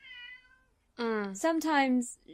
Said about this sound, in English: she comes in and just meows